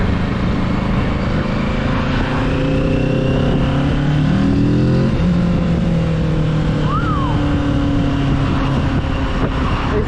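Kawasaki Z650 motorcycle engine pulling hard under acceleration, a loud continuous drone with rising, overlapping harmonic tones over steady wind roar, ridden on a mountain road.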